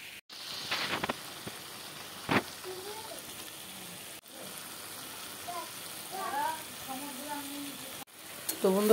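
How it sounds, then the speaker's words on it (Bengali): Ginger, garlic and chilli paste frying in oil for a chicken keema curry gives a faint, steady sizzle, with a sharp clatter of stirring near the start and brief tonal bits mixed in. "এবার একটু ভালো মতো ভেজে নেবো, মোটামুটি ভাজবো, যতক্ষণ না এর থেকে তেল ছাড়ে ততক্ষণ ভেজে নেবো লাল করে"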